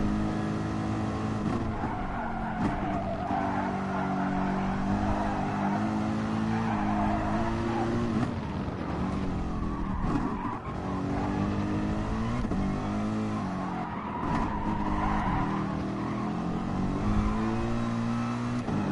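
Race car in Gran Turismo Sport lapping a time trial, engine revving up and down through gear changes with repeated tire squeal and skidding in corners, loud and continuous with no voices.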